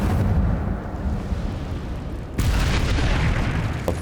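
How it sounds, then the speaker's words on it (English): An object explodes in the video game Hogwarts Legacy, a sudden loud burst of roaring noise that cuts in partway through over continuous dense game sound. "这东西为什么会爆炸"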